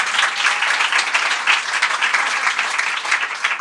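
An audience bursts into steady, loud applause to vote for a speaker at a live show in Marseille, a thick continuous wall of clapping filling the whole stretch with little else audible.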